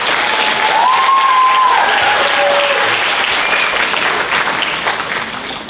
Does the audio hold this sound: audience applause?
yes